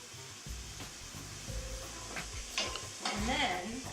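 Egg being scrambled in a hot pan for traditional fried rice, sizzling steadily while a utensil stirs and scrapes against the pan in short strokes, close and fairly loud.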